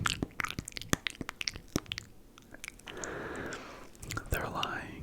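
Someone narrator's voice imitates wet lip smacking and chewing in a close, whispered ASMR delivery, with irregular soft clicks and smacks followed by breathy mouth noises.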